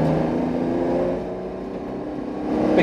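Car engine drones steadily at moderate level while pulling onto the Nürburgring Nordschleife, a continuous rumble with no sharp revving, fading slightly mid-way and rising again at the end.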